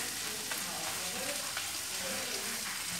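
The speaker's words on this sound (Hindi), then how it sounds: "अब मैदे को करेंगे फ्राई मक्खन के अंदर।" Maida flour frying in butter in a pan gives a soft, steady sizzle and crackle with light stirring scrapes, close but fairly quiet and continuous, with no talk over it.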